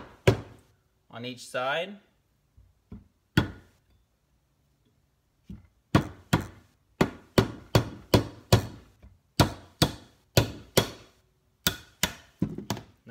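A rubber mallet strikes a connecting rod cap on a Subaru STI engine, landing about a dozen sharp, close thuds in a steady rhythm after a short spoken phrase and a few scattered knocks.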